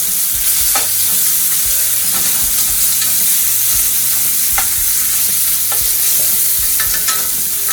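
Bacon pieces fry in a pan over medium heat with a loud, steady sizzle and crackle that fills the whole stretch, punctuated by faint pops.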